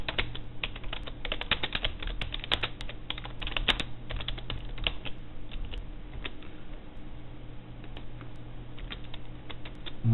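Steady typing on a computer keyboard while writing a blog post, with close, quick, irregular key clicks running continuously at low volume and no talking.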